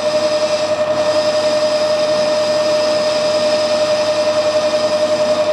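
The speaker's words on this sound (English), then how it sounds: "we'll take the last cut onto the shoulder" A metal lathe makes its last cut onto a shoulder with a steady, loud mechanical whine and a sustained tonal hum, running continuously without pause or speech.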